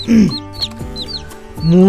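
Loud, close clucks and squawks from household-raised native hens in quick bursts, with a drawn-out call at the start and end and softer chirps between.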